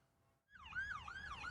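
Police car siren wailing as the car speeds past on a highway in southeastern Kentucky, a rising and falling electronic tone that starts abruptly and stays steady and moderately loud, with no one talking.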